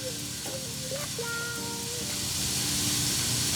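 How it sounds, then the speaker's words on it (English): Vegetables dry frying in a pan for a sweet and sour stir fry, a steady close sizzle and hiss that swells slightly, with faint tonal whistles over the frying noise. "Dry fry for 5 minutes or until lightly charred"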